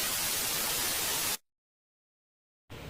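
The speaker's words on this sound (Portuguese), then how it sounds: "um estranho som de estática surgiu e começou a ficar cada vez mais alto" Loud, steady static roars alone through a Sonic.exe game cutscene, then cuts to total silence for over a second before the hiss bursts back in.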